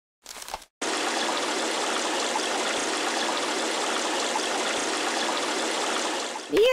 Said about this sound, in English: Oh, water everywhere!